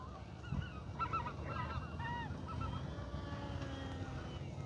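Geese honk outdoors on a snowy spring day, with a cluster of several nasal honks early on and a few more trailing off, over a low wind-like rumble.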